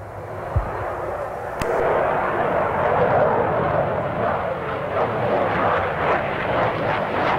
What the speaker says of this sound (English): a spectacular American bomber taxied out for its first flight